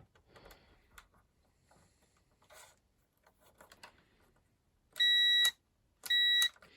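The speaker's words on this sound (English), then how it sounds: "So let's check continuity again. You'll hear the beep if it works." Two sharp electronic beeps from a multimeter continuity test on a power tool switch sound in quick succession over faint handling and rustling noises.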